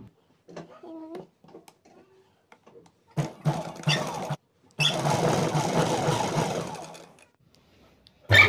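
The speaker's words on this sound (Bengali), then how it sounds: "অপর হাতাটাও আমি সেলাই করে নেব" A sewing machine stitches the second sleeve of a round-collar Anarkali frock in short bursts, then a longer steady run of whirring, close and fairly loud, separated by quiet pauses and a few faint voices.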